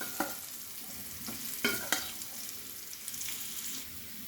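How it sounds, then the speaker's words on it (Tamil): Pieces of elephant foot yam shallow-fry in plenty of oil, a soft sizzle broken by a few sharp scraping stirs and clatters, fairly quiet and close. "இப்போ நம்ம கருணக்கிழங்கை போடலாம். ஸோ ஷாலோ ஃப்ரை தான்"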